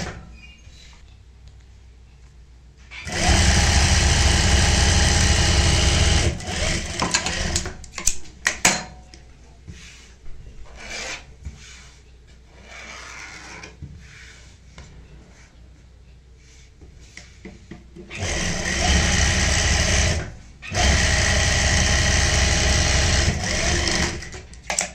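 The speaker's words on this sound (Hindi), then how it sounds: "तो यहाँ पे हम सिलाई लगाएंगे, 1/2 इंच चौड़ाई वाली हमने यहाँ पे लगानी है सिलाई" An electric sewing machine stitches a half-inch seam on a Pakistani-style salwar, running in two loud sustained bursts separated by quieter handling and fabric sounds, with no talk.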